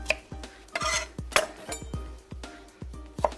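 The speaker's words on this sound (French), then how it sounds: "je vais tailler finement mes échalotes, je vais les ciseler" A knife finely minces shallots on a cutting board, a close, steady run of crisp taps and knocks at a brisk, even pace, with no talking.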